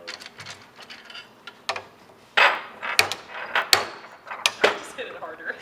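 Metal hammer blows on a wind turbine yaw motor assembly during repair, several sharp irregular strikes in a workshop with people talking around them.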